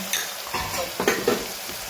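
Red chili powder, turmeric, coriander-cumin powder and salt stirred and mixed in a hot pan, with a continuous sizzle and a couple of quick scraping strokes.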